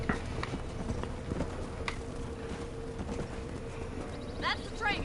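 Horse hooves galloping in Red Dead Redemption, a steady rapid clip-clop rhythm running throughout at moderate loudness under a low background rumble, with a brief whinny-like squeal near the end.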